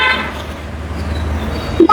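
A bus passing on a village road: a steady close engine rumble with short horn toots at the start and again near the end.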